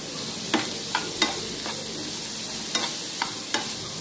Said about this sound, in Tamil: பீட்ரூட் போட்டு கொஞ்சம் அப்படியே எண்ணெயில் ஃப்ரை பண்ணி விடுங்க.